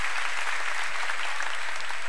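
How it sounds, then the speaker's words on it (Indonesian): Audience applause during a Quran study gathering honoring an Islamic boarding school's math champions; dense, steady clapping throughout the short stretch, moderately loud with no pauses. "Tepuk tangan buat pesantren Zainul Hasan."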